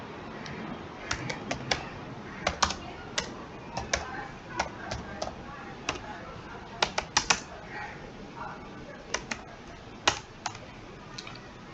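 Computer keyboard keys click in irregular bursts of close, crisp taps as an address is entered in Tally Prime accounting software, with quiet room noise between.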